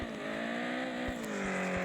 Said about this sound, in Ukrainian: Ви чуєте тепер мій звук мотору?